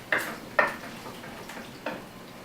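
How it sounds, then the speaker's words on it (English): Chicken liver and mushroom stir-fry in a pan, with three or four sharp clinks of a utensil against the cookware spaced over a couple of seconds, quiet and close with no talking. "Just let it stir fry."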